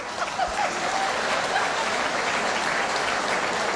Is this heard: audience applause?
yes